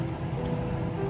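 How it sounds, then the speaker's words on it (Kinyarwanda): Heavy morning rain falls on a surface nearby, a steady pattering wash with no voices over it. "igitondo cy'imvura nyinshi yabyutse."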